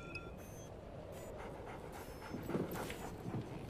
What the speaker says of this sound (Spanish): Hombre, los perritos.